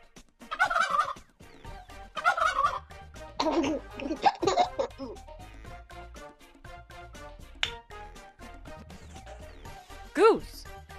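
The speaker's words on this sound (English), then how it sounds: "Turkey." A turkey gobbles in rapid bursts over a light musical background, with laughter-like sounds mixed in and a final sharp call.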